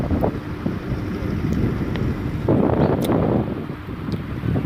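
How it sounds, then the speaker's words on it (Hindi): Strong wind buffets the microphone in a constant loud roar, with gusts swelling and easing throughout. "बहुत तेज़ हवा चल रही है।"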